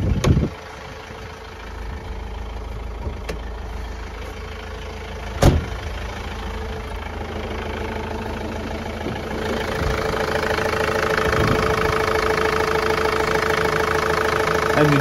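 A car engine idles after being worked on, running as a steady, even rumble for a long stretch. There is one sharp click partway through, and the engine note grows slightly fuller toward the end.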